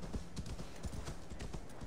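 Horse hooves clip-clop in a steady walking rhythm in Assassin's Creed Valhalla, evenly spaced thuds over a continuous in-game ambient bed, fairly close and moderately loud.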